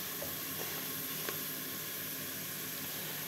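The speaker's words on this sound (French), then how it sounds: "je mettrai mes pilons de poulet dans le coquéo pour les faire revenir" Chicken drumsticks browning in a cocotte, giving a steady, even sizzle with a faint hiss and a few tiny pops, continuous and close with no voices.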